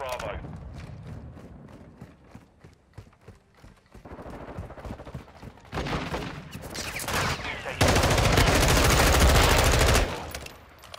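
Automatic gunfire in the Modern Warfare 2 beta, with scattered single shots and footsteps giving way to loud, sustained bursts of rapid fire in the second half, while a player talks over parts of it.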